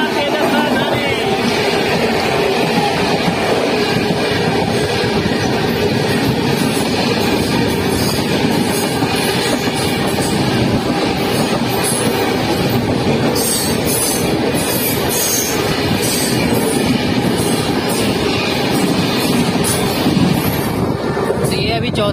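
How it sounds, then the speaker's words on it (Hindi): A long-distance Indian express passenger train on the Howrah–Kalka route running near Aligarh Junction: loud continuous rumble of wheels on rails with rattling carriages and intermittent high wheel squeal, recorded from on board, no talk heard. "हमारी ट्रेन जो है अलीगढ़ जंक्शन पहुंच चुकी है"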